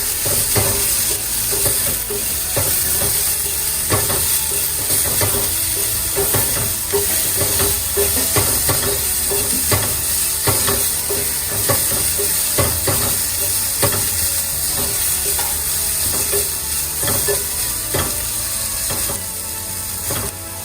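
Onions sautéing with a pinch of salt and turmeric in a pan for cabbage egg poriyal, a steady loud sizzle broken by frequent scraping stirs of the spatula, with no talking.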